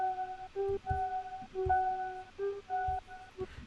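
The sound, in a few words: synth keys preset from Metamorphosis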